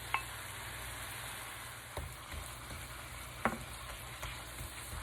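Ground beef sizzling in a pan with garlic, onion and tomato, a soft steady frying hiss with occasional stirring clacks of a utensil against the pan, close and quiet with no talking.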